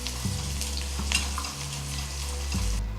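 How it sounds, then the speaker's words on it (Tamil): Chopped onions sauté in a hot pan for murungai keerai sambar, a continuous close sizzle broken by a few soft stirring scrapes, with no talk. "வெங்காயம் நல்லா வதங்கிடுச்சு."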